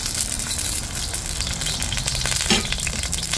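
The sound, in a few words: eggplant frying in canola oil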